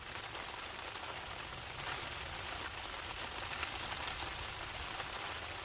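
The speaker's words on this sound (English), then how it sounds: "it's pouring with rain" Dense, steady hiss of heavy rain pattering on a taut tent surface close by, a dome hot tent while wild camping in Scotland, continuous and unbroken with no voices.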